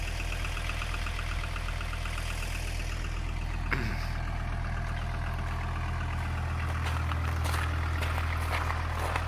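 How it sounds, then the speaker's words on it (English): Engine of a VW Squareback on a classic car road trip, at the summit of a mountain pass, runs with a steady low drone and faint mechanical ticking throughout, with no talk. "Yeah, engine runs great."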